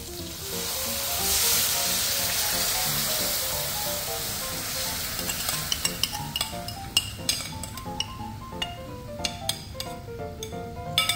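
Sauce poured into hot oil left from frying tilapia for escabeche, a loud rushing sizzle that gradually fades into softer crackling, with sharp clinks of a utensil against the pan toward the end.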